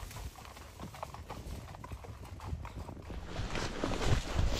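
Hooves of a bay roan quarter horse clip-clop steadily on a trail ride, close and fairly loud, with a brief whinny mixed in and no talk.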